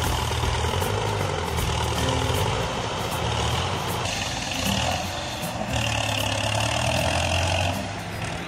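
A small truck hauls a massive load of heavy cargo, its engine a steady, loud low rumble and drone that holds throughout with no pauses, no talk, and only faint beeps and hiss mixed in.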